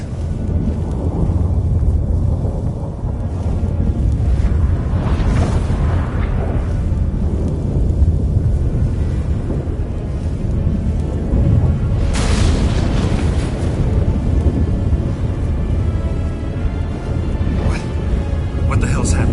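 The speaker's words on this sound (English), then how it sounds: "That a storm?" A thunderstorm breaks out in the Witcher 3 video game: a deep, continuous rolling rumble fills the scene, swelling into a louder, sharper thunderclap about two-thirds of the way through.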